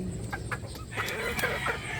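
Roosters and pullets clucking together in a farm flock being raised for hardening, with a busy overlapping chorus of clucks and short calls, steady and fairly close throughout.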